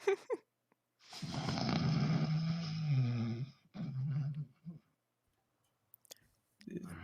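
A person imitates snoring with a long, rattling, throaty snore and a shorter second one, close and clear, followed by quiet clicks and a brief voice.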